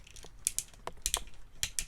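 Plastic G1 Transformers Monsterbots toy legs folding during transformation, a string of close, sharp clicks and ratcheting snaps in irregular bursts with brief pauses between them.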